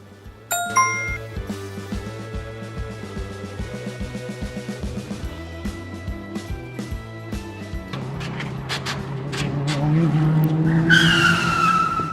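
An online car racing video game plays with tyres skidding and squealing under a tonal, chiming game soundtrack. The screech builds louder toward the end, with no talking.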